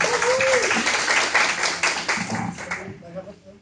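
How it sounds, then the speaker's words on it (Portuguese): Audience applause at a workshop, a burst of hand clapping that fades out over a few seconds, with voices talking over it. "Palmas para ela, muito obrigada."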